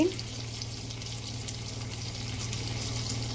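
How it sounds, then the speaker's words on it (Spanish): Pork pieces and nopales cook in salsa in a pan with a steady, even sizzle and soft bubbling that continues throughout, with no one talking. "Ok, en este punto le voy a agregar mi salsa. Y voy a dejar que se cocine todo"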